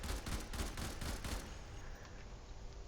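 A burst-fire weapon in the video game Warframe fires a rapid series of about eight close, loud shots over a second and a half, followed by a fading tail.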